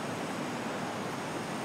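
Water gushes steadily out of a pipe at a village drinking-water source, a loud, continuous, even rush with no voices over it.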